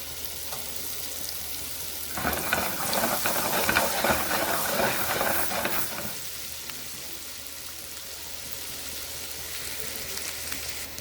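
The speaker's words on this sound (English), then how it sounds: "Shallots and our garlic right in the pan" Shallots and garlic hit browned butter in a pan with a loud, hissing sizzle that swells for several seconds, then settles into a quieter, steady fry.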